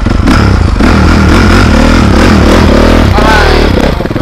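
A motorcycle engine struggles to start, making a loud, continuous, close-up clattering rumble that stays harsh and uneven without settling into a smooth idle.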